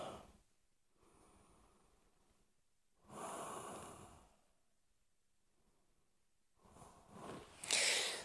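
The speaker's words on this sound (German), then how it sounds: "Und in deine Achseln atmen." Slow, audible breaths drawn in and pushed out during a child's pose stretch in a yoga-style upper-back workout, close and soft, with quiet pauses between each breath.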